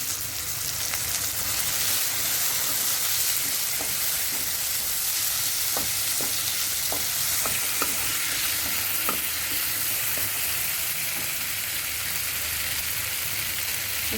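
Peas and mushrooms sizzle in an oiled pan. A dense, even frying hiss runs throughout, broken by scattered small pops and light spoon clicks, and no one speaks.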